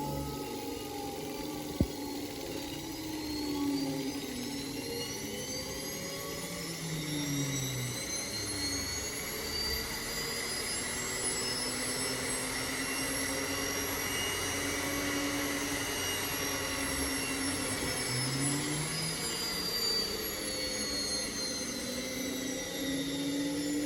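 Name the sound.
electric motor under load in resonant power transfer demo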